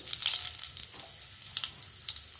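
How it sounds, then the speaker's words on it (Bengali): Whole cumin seeds sizzle and crackle in hot mustard oil in a pan, a steady close frying hiss with small pops throughout, no voices. "গোটা জিরে"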